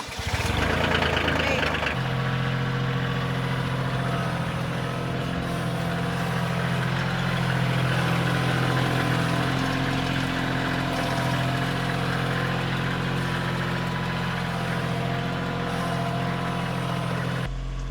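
A tractor engine idles steadily and fairly close, a low continuous rumble with a louder burst at the start and no talk over it.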